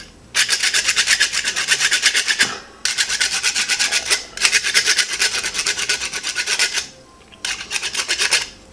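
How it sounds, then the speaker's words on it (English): A wood rasp files down a chewed Benebone wishbone dog chew in long runs of fast, harsh, rhythmic scraping strokes, close and loud, broken by short pauses. "by using a normal ordinary wood rasp, I can reuse this bone again"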